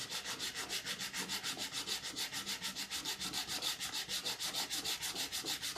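Rhythmic back-and-forth sanding on wood, a steady raspy scratching repeated in quick even strokes, close and fairly quiet.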